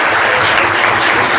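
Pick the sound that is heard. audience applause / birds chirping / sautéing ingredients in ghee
audience applause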